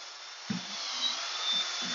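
A power drill fitted with a mixer churns damp sugar into bee feed, giving a steady, moderately loud whir with faint low thumps as the paddle works through the wet sugar.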